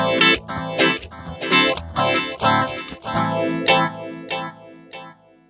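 An electric guitar on its bridge pickup plays through a JOYO DC-15S amp with a chorus-like modulated effect, a rhythmic run of bright strummed chords and notes ringing out with swirling, wavering tone, no voices.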